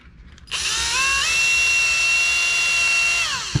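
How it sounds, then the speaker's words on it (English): A power drill drilling scrap wood whines steadily at high pitch, pitch rising once as it speeds up, running continuously for a few seconds before winding down and stopping. "So then we'll use this drill bit."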